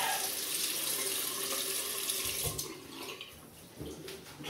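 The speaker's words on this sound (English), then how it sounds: "wet my face" Water from a sink tap runs and splashes steadily as a face is wetted before a shave, a close, continuous broadband wash that thins and breaks into a few sharper splashes near the end.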